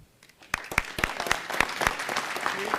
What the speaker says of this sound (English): we want to give you all a grand round of applause